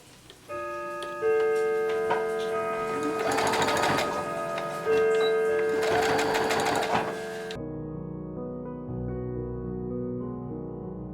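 A sewing machine stitching a pleated fabric face mask, two fast rattling runs of stitching with a pause between, close and loud, followed by a quieter mechanical hum.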